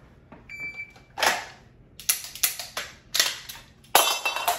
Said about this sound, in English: if you drop your magazine on the ground and it ejectos the entire thing, it falls apart on a hard surface with no ammo in it